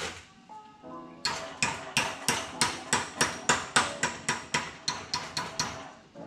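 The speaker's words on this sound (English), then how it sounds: "drop my hammer and bend it a little bit more" Metal manifold tabs being struck with a hammer while clamped in a vise, a loud, evenly spaced run of about fifteen ringing blows, preceded by a few softer taps, with no voices.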